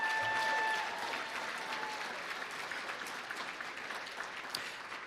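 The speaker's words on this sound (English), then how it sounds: "Let's give them all a round of applause." Sustained applause from an audience at a student production awards ceremony, steady clapping filling the room from start to finish.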